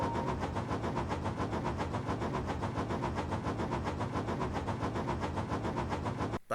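Steam engine Gordon puffing along the railway, a fast, even chuffing rhythm repeating steadily and loudly throughout before cutting off abruptly at the end.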